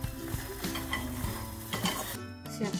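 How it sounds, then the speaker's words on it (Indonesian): A spoon stirs a simmering milk and spice mixture with oil in a pot, making a close, continuous scraping and sizzling bubble with occasional clinks of utensil on metal, and no speech. "Setelah mendidih susu dan campuran bumbu tadi, kita masukkan minyak,"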